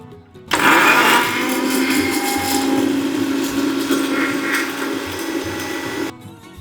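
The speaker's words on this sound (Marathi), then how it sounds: "ह्याच्यामध्ये मी घालणार आहे मीठ आणि हे जराशी असं ब्लेंड करून घेणार आहे." A kitchen mixer blends garlic sauce paste with salt in one loud, continuous whirring burst of about five seconds, starting and stopping abruptly, close by with no talking.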